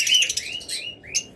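A pair of lutino Fischer's lovebirds gives a few sharp, high chirps in quick succession, close and clear against a quiet background.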